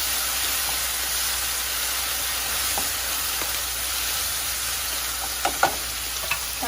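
Onions frying in a pan with cumin and turmeric added, a steady close sizzle and hiss with a few light clicks of stirring near the end.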